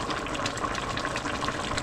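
Jamaican curried chicken simmering in a pot gives a continuous dense bubbling and gurgling, a steady close liquid texture with no talking over it.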